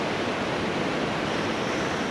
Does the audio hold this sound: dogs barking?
no